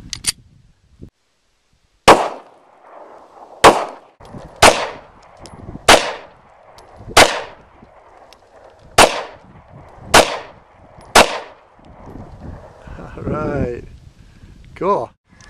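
About nine sharp gunshots crack out one at a time at roughly one-second intervals, loud and near, each followed by a short ringing decay, with some rustling and handling noise between shots.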